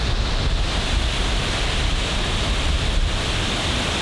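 Rainbow Falls, a waterfall in a North Carolina gorge, roaring loud and steady as a dense continuous rush of falling water, with no talking.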